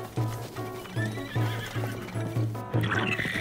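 Horses in the video game Zelda Breath of the Wild trot with steady, rhythmic clip-clop hoofbeats and then let out a high neigh near the end, close and clear with no talking.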